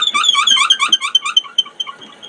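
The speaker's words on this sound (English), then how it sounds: "you can tell the squeaking sound. You got to keep the bit clean." Drill bit squeaking while boring into a workpiece, a rapid series of high, chirping squeals that gradually fade and space out over a couple of seconds, heard alone and close.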